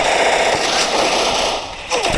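Gunfire in the mobile battle-royale game Free Fire, with sharp shot bursts cracking over a dense, constant game soundscape and closer, louder shots near the end.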